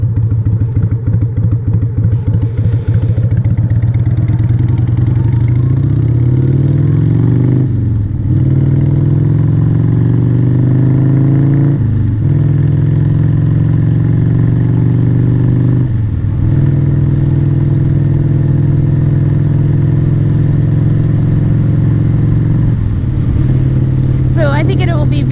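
A motorcycle engine running close by, settling into a steady low idle with a few brief rises in revs, while a rider speaks over it at times.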